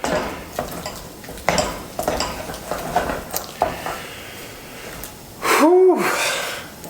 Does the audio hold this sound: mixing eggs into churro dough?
yes